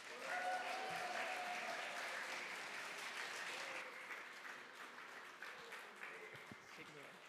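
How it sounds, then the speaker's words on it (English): An audience at a film festival Q&A applauds steadily, a dense even wash of clapping that slowly tapers off, heard from within the room. "Let's give a round of applause, please."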